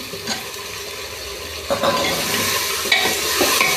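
Soya chunks (nutri) tossed into a pan for salted rice and stirred, with steady frying sizzle and scraping stir strokes at a close, moderate level, no talking.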